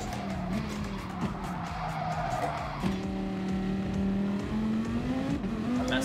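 Race car on the Laguna Seca circuit in Gran Turismo Sport braking hard into a corner, tires skidding and squealing over a steady, droning engine note that shifts pitch as the car slows, loud and continuous with no talk.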